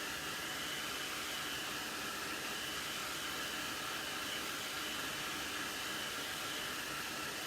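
A hair dryer blowing on white paint on a sugar skull craft, a steady close airy whoosh with a broad hiss that continues unbroken and even throughout, with no voices.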